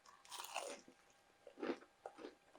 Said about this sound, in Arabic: هاي صوت القرشة فيها